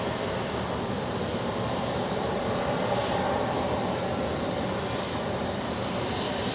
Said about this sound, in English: We're gonna see out the final departure, what we believe is the final departure here, out of Brizzy.